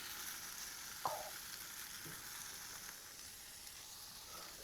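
Quiet, steady sizzling hiss of meat cooking on a hot barbecue grill, with a couple of soft clinks near the start.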